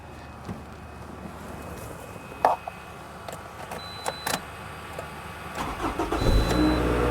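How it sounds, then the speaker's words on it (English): A Toyota RAV4 engine cranks and starts on jumper cables and then settles into running, with scattered clicks and clunks before the engine catches and builds near the end, close by with no talking. "So right there, the vehicle started. Okay. As you can hear, the engine is running"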